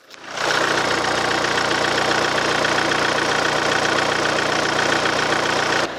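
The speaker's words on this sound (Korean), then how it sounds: "내려서 엔진 소리 한번 듣고 끝내도록 하겠습니다" A Hyundai Maxcruz SUV engine idles steadily and close by, a continuous even rumble with a faint knocking texture, no voices over it.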